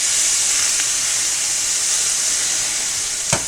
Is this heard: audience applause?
no